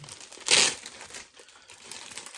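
Plastic packaging on a Tetris game box is opened, with one sharp crinkling burst followed by softer, fainter rustles, close by and quiet.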